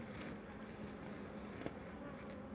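A honeybee swarm lodged in a tire buzzes in a steady, even drone, soft and continuous, with one faint click partway through and no voices.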